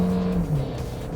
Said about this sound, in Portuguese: Eu vou acelerar forte,